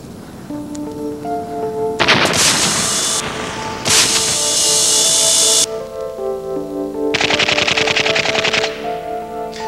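Pyrotechnics go off in rapid, crackling bursts, dense volleys of sharp pops that come in several loud surges over a continuous tonal background hum, close and powerful with no pauses between the barrages.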